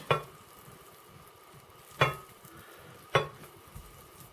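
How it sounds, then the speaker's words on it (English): Sage and onion stuffing mixture is spooned from a bowl into a baking dish, giving three sharp utensil scrapes and knocks about a second apart over a quiet background, with no talk. "transfer the mixture to a baking dish"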